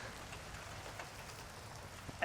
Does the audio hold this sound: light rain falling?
yes